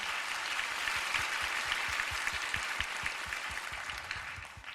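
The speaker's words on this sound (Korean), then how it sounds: "이 귀한 자리를 허락해 주신 아버지 하나님께 영광의 박수 올려드리면서 예배 시작하겠습니다." A congregation at a large prayer meeting applauds in a dense, sustained wash of many hands clapping at once, loud and continuous throughout, with no speech.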